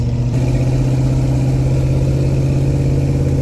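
An LT1 V8 swapped into a Jeep YJ runs with a loud, steady low exhaust drone, idling evenly and close up for the whole stretch without talk.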